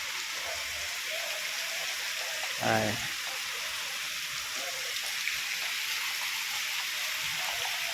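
Heavy monsoon rain pours down with rainwater flowing through the streets, a constant broadband rushing hiss that fills the whole scene, while a voice briefly speaks a single word.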